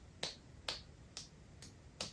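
Five slow, soft claps spaced about half a second apart, each a sharp brief snap, quiet and close, with no talk, imitating the first light patter of rain.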